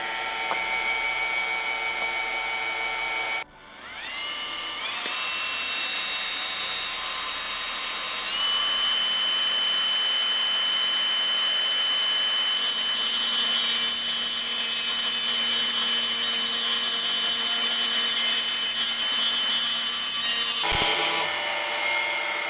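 A high-speed rotary tool whines steadily as it cuts a slit into a fountain pen nib, its pitch stepping up twice as the RPM is raised, then cutting out abruptly near the end.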